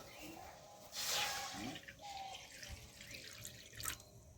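Water poured into a cooking pot while making a fish curry: a soft splashing trickle in short bursts, quiet and close in a kitchen.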